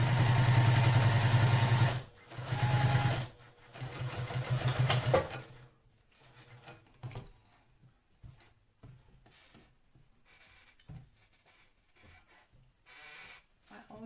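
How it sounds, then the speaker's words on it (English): A sewing machine runs in two close bursts, top stitching a seam allowance, its rapid mechanical chatter loud and near, followed by quieter handling noises and light movement sounds. "I am top stitching this seam allowance to the top."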